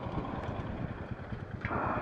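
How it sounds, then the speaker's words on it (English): Several motorbikes idle together at a quiet rural spot beside a lake and green farm fields, a steady low engine rumble running throughout at a fairly soft level, with a brighter broadband burst near the end. "The only sound is the sound of our bike engines."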